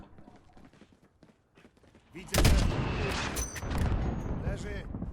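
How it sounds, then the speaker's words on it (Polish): Mortar fire and gunshots in the Call of Duty Modern Warfare video game: quiet at first, then a loud blast erupts midway into sustained booming battle noise, with voices talking amid the gunfire. "Jest jeszcze jeden moździerz, Alex!"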